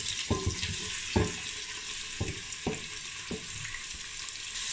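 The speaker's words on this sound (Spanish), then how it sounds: "Lo primero que haremos es comenzar a sofreír la cebolla y el pimiento" Onion and red pepper sauté in olive oil, a steady bright sizzle under five evenly spaced knocks of a utensil stirring the pan, close and without speech.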